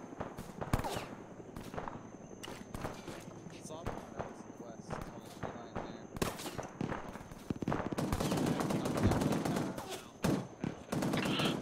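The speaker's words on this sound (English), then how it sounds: "Another suppressed weapon out there to the west, maybe." Suppressed weapon fire in ArmA 3 during a 1970s black-ops style operation: repeated sharp cracks and short bursts, some near and some distant, building to a denser stretch of firing with faint talk underneath.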